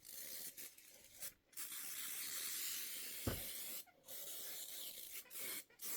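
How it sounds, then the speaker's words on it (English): A steady hiss of an aerosol can spraying in long bursts with short pauses between them, close by. "I'm just going to do this and spray this."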